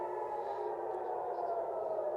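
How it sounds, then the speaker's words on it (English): Air raid sirens over Tel Aviv during a missile alert, a steady, sustained wailing tone that fills the whole stretch at an even level, heard from a distance across the city. "the sirens are now wailing over Tel Aviv, indicating that another missile is inbound"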